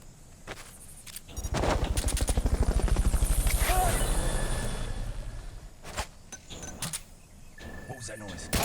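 The Fulton recovery helicopter in the video game Metal Gear Solid: Peace Walker whirs in with a rapid rotor chop that builds, holds loud for a few seconds, then fades, with game clatter and clicks around it.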